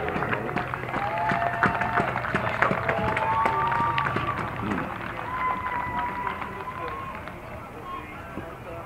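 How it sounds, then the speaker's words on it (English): A crowd claps for the seniors at the George Brendler Soccer Field before a Chazy versus Lake Placid boys' soccer game. Steady outdoor applause under an announcer's amplified voice fades gradually over several seconds. "Let's give a big round of applause for our seniors."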